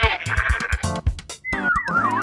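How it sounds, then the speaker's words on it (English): A goat gives a short wavering bleat near the end, preceded by bright bouncy children's music with rhythmic beats. "G for goat"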